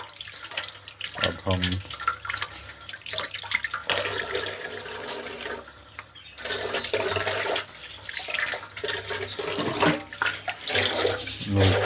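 Tap water runs and splashes while raw chicken pieces are washed in a kitchen, with a fluctuating, continuous gush close by and a voice speaking briefly over it.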